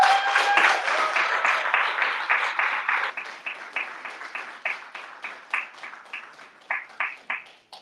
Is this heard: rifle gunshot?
no